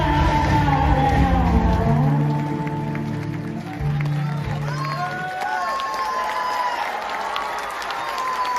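An audience claps and cheers at a devotional Mahavir stage dance show, the crowd noise swelling under loud sung music that then fades, leaving the applause and crowd sound on their own.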